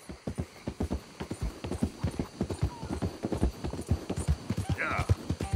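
Horse hooves clip-clop at a brisk, steady walking rhythm in the Red Dead Redemption 2 video game, close and fairly loud, with a brief faint whinny near the end.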